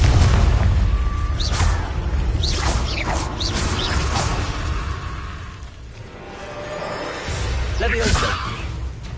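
Confringo spell blasts in Hogwarts Legacy: a run of loud booms and bursts with swishing whooshes, repeating across the stretch amid dense battle noise, with brief voice-like sounds mixed in.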